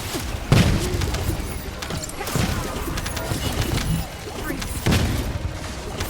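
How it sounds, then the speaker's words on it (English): Booming enemy explosions in the video game The First Descendant, several heavy thuds and crashes over about six seconds amid continuous combat noise, with talk over the top. "Can you stop trying to explode on me?"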